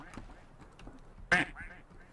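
A player in a Garry's Mod 1942 roleplay imitating a single short duck quack over voice chat, one loud burst rising out of faint background murmur.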